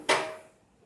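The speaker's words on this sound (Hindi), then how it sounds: "इसको पकने के लिए ढक्कन लगा के रखती हूँ।" A metal lid is set onto a cooking pot holding chicken stock for pulao, giving a single sharp, close clank that rings briefly and decays within half a second.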